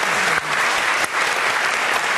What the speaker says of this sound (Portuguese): Olha, a dona Geni, o seu Wagner merece uma salva de palmas, viu?